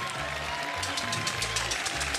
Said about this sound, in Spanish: quiero que le demos un gran, gran aplauso a la gran Sonora Palacios, a la gran Sonora de Tommy Rey